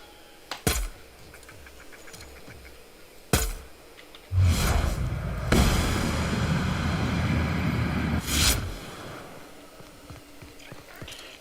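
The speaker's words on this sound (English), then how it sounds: "you remember how noisy that hunting rifle was when I last had it?" Hunting rifle in The Outer Worlds firing several loud, cracking shots spaced a few seconds apart, one followed by a long roaring rumble and hiss that trails off before the last shot.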